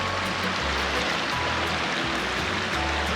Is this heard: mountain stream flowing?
yes